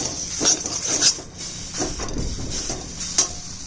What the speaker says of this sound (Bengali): এবারে বাটাটা দিয়ে দিই সামান্য তেল দিয়ে ভেজে